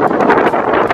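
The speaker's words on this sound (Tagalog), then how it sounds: "Lakas ng hangin, lamig." Strong, cold wind buffets the microphone in a steady, roaring rush with gusty swells, close and loud, with no voices, outdoors in Japan during cherry blossom season.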